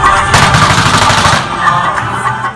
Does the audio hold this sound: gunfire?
yes